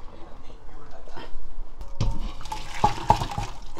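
Taro pieces being rinsed by hand in water, with sloshing, splashing and a few sharp knocks against the bowl while a person talks over it.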